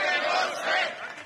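Demonstrators at a Merkel-muss-weg protest in Hamburg chant together, a dense, loud crowd roar of shouting voices sustained without pause.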